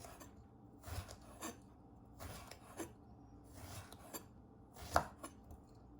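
A knife chops through steamed Asian-style eggplant on a cutting board in a home kitchen: four clusters of moderate, close chopping taps spaced a second or so apart, the last one a sharper hit, with no talking.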